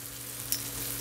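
Veal breast, shrimp and cabbage fry in a hot wok, giving a steady close sizzle with a brief stir or scrape partway through and no voices.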